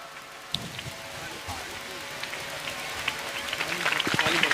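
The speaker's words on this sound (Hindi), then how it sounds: "आप तालियां बजा के इस्तकबाल करिए" Clapping from an audience welcoming guests with bouquets at an education conference and poetry gathering held at a madrasa, starting sparse and building into dense, louder applause over faint background voices.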